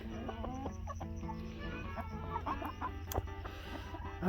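A silkie rooster clucks in a steady series of short, soft calls close by, over a low background hum.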